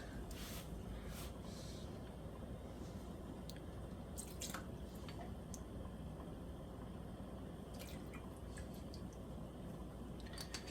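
Worcestershire sauce pours into a pan for Swiss steak, a soft, faint trickle and drip of liquid over low background noise, without speech.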